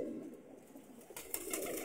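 Pigeons cooing in a breeder's loft, soft low repeated coos close by with faint rustling and a few brief higher sounds, quiet overall and without talk.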